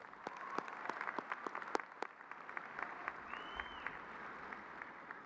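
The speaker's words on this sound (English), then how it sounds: "Let's give them a round of applause, please." Crowd applause at a 2018 Sam Houston High School graduation ceremony, with steady dense clapping that lasts throughout and a few sharper individual claps standing out.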